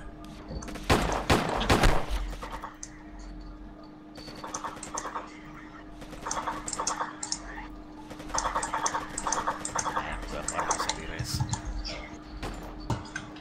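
Gunfire in the video game Flashpoint, bursts of rapid shots in clusters, with a heavy volley near the start, set against a steady background hum.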